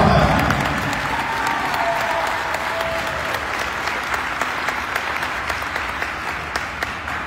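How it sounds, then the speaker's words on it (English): Sustained applause from a large audience at a send-off ceremony for the Team Marianas delegation heading to the 2025 Pacific Mini Games in Palau, dense clapping that stays strong and even for several seconds. "Let's give them a round of applause."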